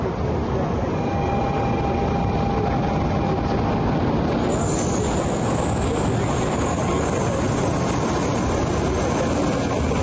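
Japanese Shinkansen bullet train at a station, a steady, loud broadband rumble and roar that fills the whole stretch without pause, with a faint tonal shift midway.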